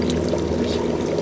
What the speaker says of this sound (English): It purifies water instantly.